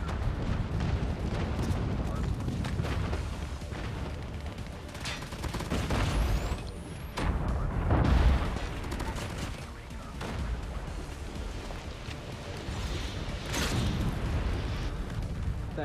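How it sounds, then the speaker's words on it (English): Airstrike explosions in Call of Duty Mobile ranked multiplayer form a dense barrage of booms and gunfire, with a player's voice talking over the chaotic, continuous battle noise. "Friendly airstrike incoming."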